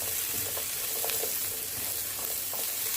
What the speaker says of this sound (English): I'm going to saute these for a couple of minutes